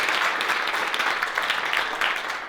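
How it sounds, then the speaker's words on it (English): An audience at a Harvard Extension keynote applauds Alex with a dense, steady round of clapping that stays loud throughout. "let's give Alex a big round of applause"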